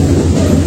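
KA Siliwangi passenger train running out of Sukabumi station toward Cianjur and Cipatat before dawn, a steady loud low rumble of rolling wheels and carriage noise heard from inside, continuous without talk.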